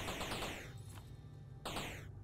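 Bursts of rapid automatic gunfire fire at the player in a space video game, two quick volleys at moderate level with a short gap between them.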